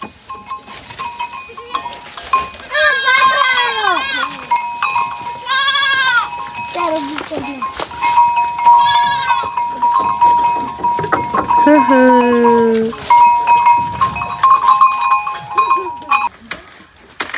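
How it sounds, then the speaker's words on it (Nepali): Goats bleat several times close by, wavering cries spread across the stretch, while people talk and call out around them. "Kiti राम्रो बाख्रा."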